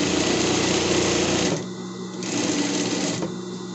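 A domestic sewing machine stitches fabric for a house-shaped pet bed, running in a steady close whir, pausing briefly to slow near a corner, then resuming with a second burst.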